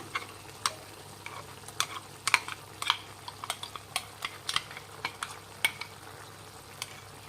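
Tomato and ground masala paste frying in a pan for capsicum green chicken, stirred with a spoon: a soft steady sizzle under a run of sharp, irregular scraping clicks against the pan, with no talk.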